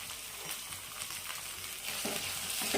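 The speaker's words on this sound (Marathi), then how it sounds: "दोन चमच तेल टाकायचं आहे आणि याला छान असं फ्राय करून घ्यायचं आहे" Green chili thecha fries in two spoons of oil over a low flame, giving a continuous close sizzle with light stirring scrapes, steady throughout without any talk.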